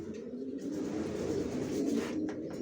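Racer pigeons coo in a low, continuous throaty burble, close and steady for a few seconds with no talking over it.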